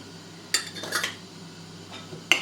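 A spoon clinks against a pan while chana is mixed with soy sauce, Schezwan sauce, red chillies and salt, a few sharp metallic knocks and scrapes over quiet background.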